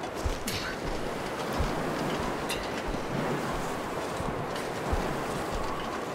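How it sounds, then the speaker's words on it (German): Steady wind blowing across a snowy wilderness in the survival game The Long Dark, a continuous broad rushing wash with no gusts standing out, moderately faint and alone. "Ich muss halt in die Richtung und der Wind kommt aus der Richtung."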